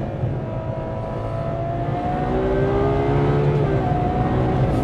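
A Ferrari 812 Superfast with a 789 bhp engine pulls hard through its gears, its loud climbing engine note stepping down at each shift and then rising again, heard steadily from inside without talk.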